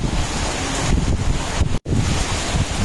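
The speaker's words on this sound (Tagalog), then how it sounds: "Taas at baba na ang tirada ng hangin o." Strong typhoon wind roars and buffets the microphone in a loud, continuous rush, surging and easing briefly, with a momentary dropout.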